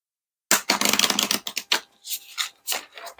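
A quick flurry of crisp, papery tarot card riffles and taps, close up, followed by a few softer separate shuffles.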